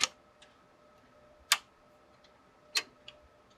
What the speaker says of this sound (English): you'll hear it click like this